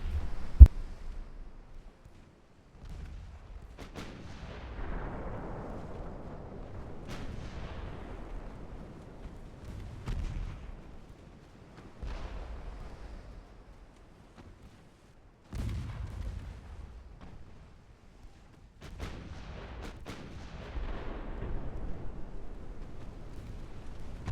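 Naval guns fire in the warship game Ultimate Admiral Dreadnoughts, six 5-inch guns and a 3-inch gun: spaced heavy booms, each with a long rumbling decay, repeating over about twenty seconds.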